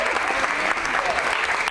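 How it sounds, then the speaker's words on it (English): A newsroom breaks into warm applause as a meteorologist returns after surgery, a dense, steady burst of clapping from a small crowd with voices mixed in. "I'm certainly not used to getting applause as I walk into the newsroom"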